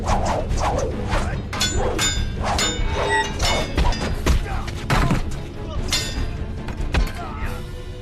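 Clashing spear-sword and dragon machete in a martial arts fight from an Ip Man film, with dense, continuous metallic clangs, thuds and swishes over a busy soundtrack.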